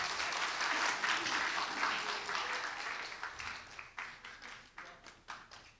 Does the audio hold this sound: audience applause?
yes